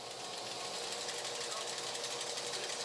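A high-powered industrial polisher buffs silicon wafers, giving off a steady, dense mechanical whir with rapid rhythmic chatter, continuous and fairly close throughout the short stretch.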